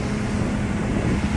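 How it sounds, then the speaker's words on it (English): A massive outboard boat motor runs steadily, a loud, continuous roaring drone with wind-like rushing noise and no pauses. "the background sound of a massive outboard motor"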